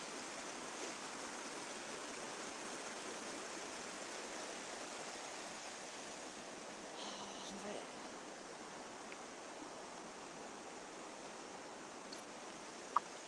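Flowing stream water running high, a faint, steady, even wash of noise that carries on unbroken throughout, heard from a short distance with no clear talk over it.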